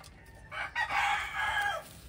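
A single rooster crows once nearby, a loud, drawn-out call lasting just over a second against a quiet background.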